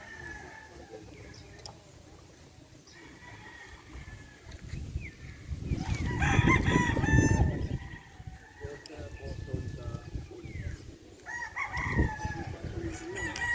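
Gamefowl roosters at a game farm crow several times in the background, moderately loud, under steady talk from a man nearby.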